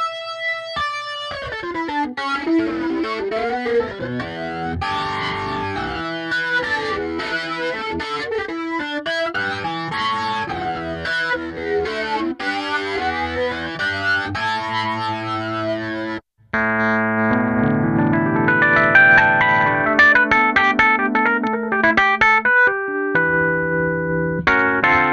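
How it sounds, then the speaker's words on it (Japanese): A UAD Electra 88 vintage electric keyboard plays chords and lines through an amp-like overdriven distortion, sustained and dense, with a brief cut before a fuller, louder passage resumes. "歪みがアンプっぽいのがやっぱよくできてるね。"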